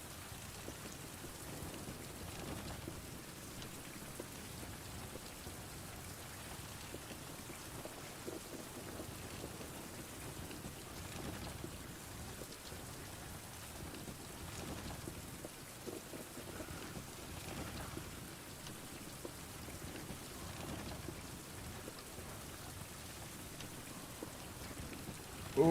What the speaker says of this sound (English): It is super rainy and hard to see